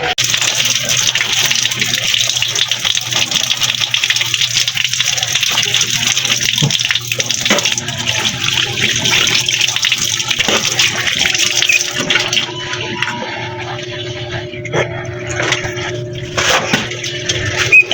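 Steady water gushing from a tap, as if filling a bathtub for a bath, forms a continuous broadband rush that thins and quiets toward the end, with clattering and bumps over it.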